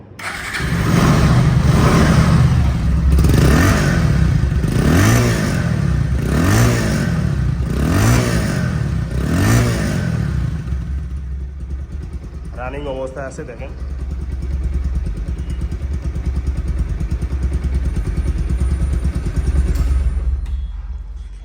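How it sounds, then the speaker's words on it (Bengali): A second-hand Bajaj Pulsar ABS motorcycle in showroom condition revs about six times in a rhythmic rise-and-fall, then settles into a steady close idle, with someone talking over the engine. "বাইকটি এখন সাউন্ড কোয়ালিটি শোনাবো"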